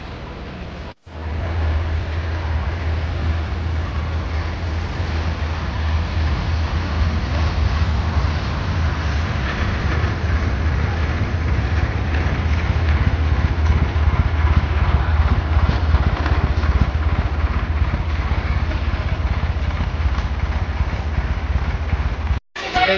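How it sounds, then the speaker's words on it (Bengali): Toy train for children running through Cubbon Park in Bangalore, a steady low rumble and clatter of the small train heard close and continuous throughout, with faint background noise and no talk. "টয় ট্রেন চলে এসেছে"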